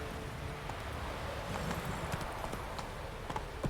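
A horse's hooves clip-clop steadily at a walking pace in The Witcher video game, soft and moderately distant, with faint rustling and no talk.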